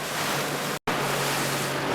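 Big sea waves slap and wash around a Fletcher Arrowflash 15 motorboat, a steady broadband roar of surf and wind noise with a brief dropout in the middle.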